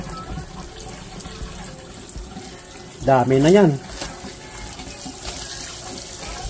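Tap water runs steadily while cow internal parts are washed in a kitchen, with a short burst of speech partway through.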